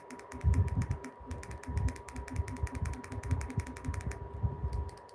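Rapid mechanical clicking and ratcheting ticks from a streaming device's menu navigation repeat in quick bursts under a low steady hum, close by, with brief pauses between runs.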